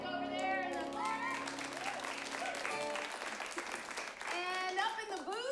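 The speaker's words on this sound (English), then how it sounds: "let's acknowledge and give a warm round of applause to Johann" A crowd at an improv comedy show breaks into warm applause, a rushing patter that swells through the middle. A speaking voice comes through over it at the start and again at the end.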